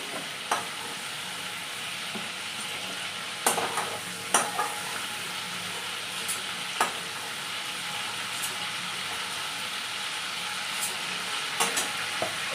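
Salt-and-turmeric-rubbed fish frying in a pan of hot oil, giving a steady, close sizzle with occasional clicks and stirring scrapes and no talk.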